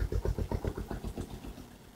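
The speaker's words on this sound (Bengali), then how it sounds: "দেখেন আমাদের বোট চলছে স্পিডে।" Motorboat engine running at speed across the open water of Chalan Beel, a steady close throbbing drone with regular pulsing beats throughout, no voices over it.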